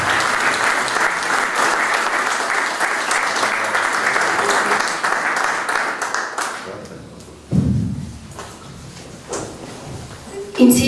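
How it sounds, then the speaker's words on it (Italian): A hall audience at an international award ceremony claps in a full, sustained burst for several seconds before it fades, followed by scattered thumps and handling noises with some talking. "Io chiuderei con un grande applauso e un augurio sincero."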